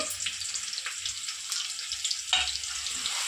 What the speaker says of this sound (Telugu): ఇదిగోండి నేను ఉల్లిపాయలు వేసేస్తున్నాను